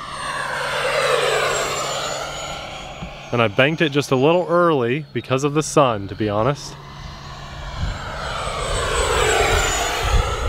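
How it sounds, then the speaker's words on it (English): An electric model jet makes a full-throttle flyby, its rising then falling whoosh with a Doppler sweep at the start and again at the end, with someone talking in the middle. "Let's do just a full throttle pass on this next flyby so you guys can hear this."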